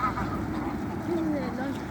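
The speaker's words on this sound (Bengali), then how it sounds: "একজন আপু হাঁসের খাবার দিচ্ছে। সবাই সারিবদ্ধভাবে এখন খাওয়া শুরু করলো।" Ducks being fed by a woman as they line up to eat, giving faint, scattered quacks and nasal calls under a steady outdoor background, with a voice talking over them.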